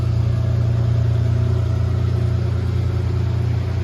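A restored 1990 Mercedes 280GE Puch runs at a steady idle, a close, loud, even engine drone with a low hum and no talking.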